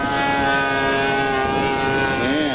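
A model warbird airplane comes in to land on a diagonal runway with its gear down, its steady engine drone loud and continuous, the pitch sliding slightly near the end as it passes.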